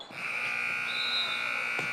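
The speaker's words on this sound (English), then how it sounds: "And the halftime buzzer will ring." A halftime buzzer sounds at a girls high school basketball game in a gym, one loud sustained electronic tone lasting nearly two seconds, close and alone.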